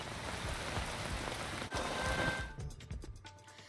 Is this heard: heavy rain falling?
yes